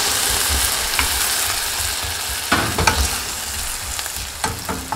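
Potato chunks hiss and sizzle as they are stir-fried in oil in a pot for Korean potato soup. The frying is continuous and close, with a few scraping knocks from stirring.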